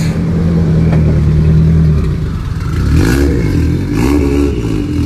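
A drift car at an RDS Asia round revs hard, engine rising and falling in loud bursts with some clatter, close and continuous without speech.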